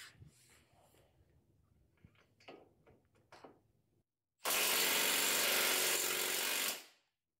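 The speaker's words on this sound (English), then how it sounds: "see if this little impact wrench will loosen that bad boy up" A small cordless impact wrench hammers at a stubborn bolt in one loud, sustained burst of rapid rattling lasting a couple of seconds, after quieter clicks and fumbling with the tool.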